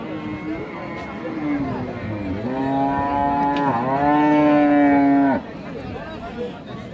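Friesian cows at a village cattle market in Dinajpur, Bangladesh, give a long, drawn-out moo nearby that rises and swells before cutting off, with crowd murmur and voices around it.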